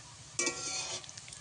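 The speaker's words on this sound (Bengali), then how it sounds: "এই যে সীতাভোগগুলো হালকা আছে ভাজবো" Semolina sitabhog sweets fry gently in a pan over low heat, giving a short, soft burst of sizzling and stirring that fades into faint crackles, with no one speaking.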